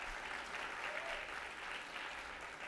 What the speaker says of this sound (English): let's please give it a great big round of applause